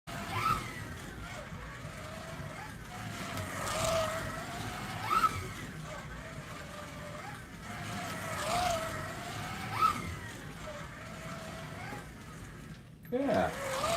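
A hobby race car, likely a home-built slot car on an H&R chassis, laps a track again and again, its motor whine rising and falling about every few seconds under steady background noise and low chatter.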